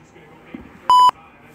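A phone gives one short, clear electronic beep during a ghost investigation, standing alone over a quiet room hush.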